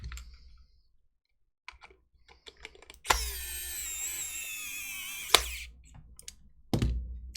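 A small drill, used restoring a Virtual Boy controller, whirs for a couple of seconds after scattered clicks and handling noises, then stops with a sharp knock.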